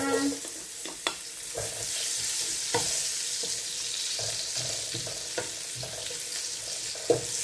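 Onions sautéing in a pan while a vegetable ginataan with dried anchovies cooks: a steady, close sizzle with repeated clicks and scrapes of stirring, and no talk.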